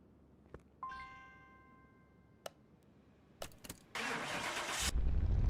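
A few clicks and a short chime lead into a car engine cranking and catching on a dyno in the video game Car Mechanic Simulator 2021, the engine running loudly to the end.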